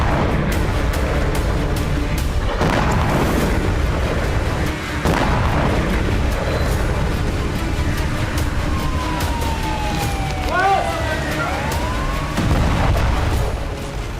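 Guided bombs and missiles strike in Gaza: a dense, continuous roar of rumbling booms, with a rising and falling whine sweeping through near the end, and no talking.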